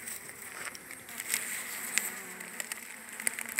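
Honey bees swarm and buzz in a steady drone at an opened hive during routine hive care, a dense close hum with faint intermittent ticks and knocks from the keeper working the frames.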